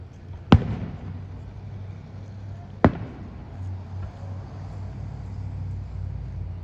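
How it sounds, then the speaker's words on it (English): Fireworks bursting over Point Pleasant Beach, two sharp distant booms a couple of seconds apart, each a single crack with a brief rumbling tail over steady low outdoor background noise. "After the fireworks go off."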